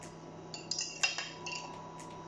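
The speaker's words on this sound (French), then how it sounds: "Et il n'y a plus qu'à mélanger." A utensil scraping and clinking against a pan while flan custard is stirred on the stove, a few faint metallic taps over a quiet kitchen hum.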